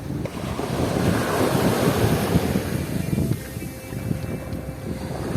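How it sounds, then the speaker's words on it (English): Surf rolls onto Ao Prao Beach on Koh Kood island, Thailand, a steady wash of waves mixed with heavy wind buffeting the microphone, loud and continuous with no voices. "The first beach is Ao Prao Beach."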